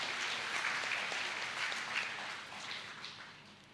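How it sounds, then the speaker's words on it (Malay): Audience applause at a higher education minister's New Year address, a dense, even patter of many hands clapping that gradually thins and softens, with no voices over it. "Tepukan untuk mereka."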